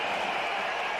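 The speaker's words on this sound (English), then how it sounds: "And this crowd at Sabina Park is alive" A cricket crowd at Sabina Park breaks into applause, a dense steady roar of clapping filling a short burst.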